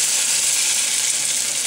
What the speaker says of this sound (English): it has to sizzle when you put it in there